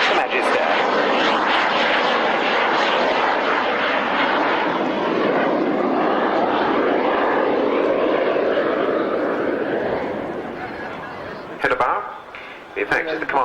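A Fouga CM-170 Magister jet from the Belgian Air Force's 33 Squadron roars loudly at an airshow, its engine sound holding steady before easing and fading away near the end.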